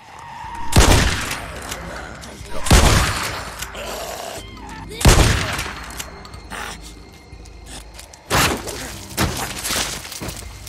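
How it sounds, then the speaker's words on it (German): Gunfire in the video game Days Gone: four or five loud, sharp shots spaced a couple of seconds apart, each with a brief ringing tail, over a low game background with faint voices. "Aber ich habe doch hier Schüsse gehört."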